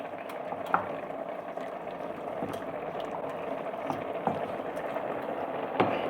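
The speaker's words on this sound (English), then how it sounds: "I'm just gonna cover and simmer" Sotong pieces in turmeric sauce bubble and simmer steadily in a covered frying pan inside a van, a continuous soft boil with occasional louder pops and clinks.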